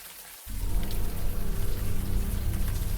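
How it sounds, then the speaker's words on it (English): Warm rain pouring down in a video game, a steady dense patter that swells in after a brief quiet moment and holds loud and even. "the warm rain is coming down"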